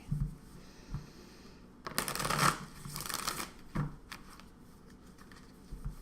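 Tarot cards being shuffled close by, a soft papery riffle with a louder burst in the middle and quieter rustles around it.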